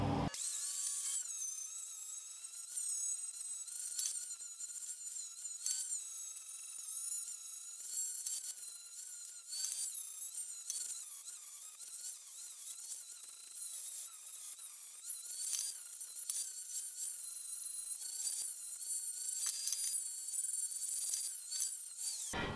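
A power tool grinds and cleans a steel leaf spring, giving a steady high whine with shifting pitch that runs continuously for the whole stretch, fairly close.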